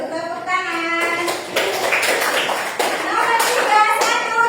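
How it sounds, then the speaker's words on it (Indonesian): Children clap together in a primary school classroom, a dense burst of applause lasting several seconds, with a voice audible near the start. "Oke, tepuk tangan."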